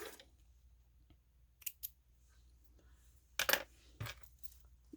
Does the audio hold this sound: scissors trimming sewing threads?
yes